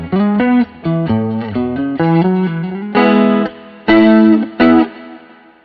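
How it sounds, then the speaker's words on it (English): A guitar legend's amp rings out played chords through an analog stereo chorus and reverb, a loud, shimmering, distorted strum in short bursts with gaps, the last chord left to decay into the reverb tail. "And then the chorus, let's add in that part and then let's see what that component adds."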